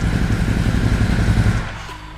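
A Ducati Hypermotard 950 RVE motorcycle engine revs on the throttle, a loud, close, throbbing growl that holds steady and then drops back toward idle near the end.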